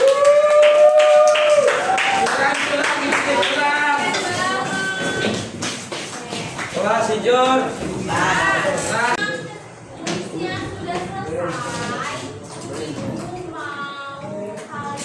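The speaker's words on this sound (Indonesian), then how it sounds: "Boleh tepuk tangannya semua." A classroom audience claps for students, a burst of applause among the class while a teacher speaks over it and voices keep talking throughout.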